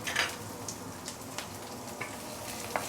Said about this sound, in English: Once the oil has been heated up, we can put in all the fresh herbs, ginger, garlic, spring onion, yellow onion,